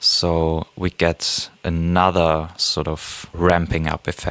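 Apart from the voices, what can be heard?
No distinct noise like a dog, phone or traffic.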